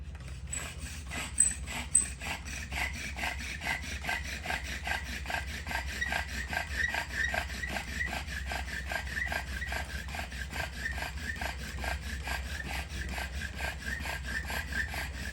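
A wooden spindle is churned hard against a fireboard for a friction fire, grinding in a steady, rapid back-and-forth rasping rhythm that runs unbroken throughout at close range.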